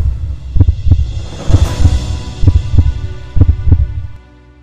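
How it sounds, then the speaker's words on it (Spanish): A heartbeat sound effect thumps loud and close in steady paired beats, lub-dub after lub-dub, over a low throbbing hum, with no voices, before fading out at the end. "A un solo latido."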